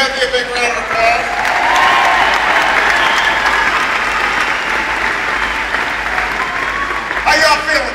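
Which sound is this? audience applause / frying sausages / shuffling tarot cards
audience applause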